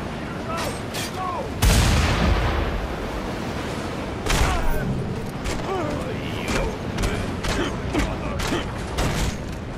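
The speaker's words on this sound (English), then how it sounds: "It's a new shotgun." A shotgun fires in the Mad Max video game, with a sharp heavy blast standing out among clanking, creaking combat noise and further impacts, while a player talks over the action.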